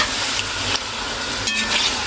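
Liver fries in a pan, giving off a steady sizzle and hiss with occasional brief stirring scrapes, close by and fairly quiet, with no voices over it.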